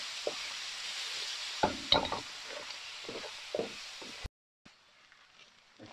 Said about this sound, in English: so now add the stir fry veg